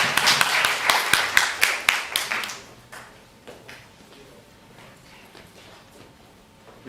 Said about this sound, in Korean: 저희 다시 한번 김명환 형제님 위해서 박수 한번 부탁드리겠습니다